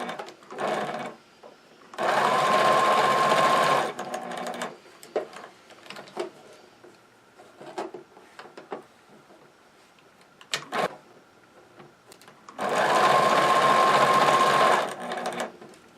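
A sewing machine stitches the toe of a Christmas stocking in two loud, steady whirring runs of about two seconds each, separated by quiet stretches with light clicks and handling noises.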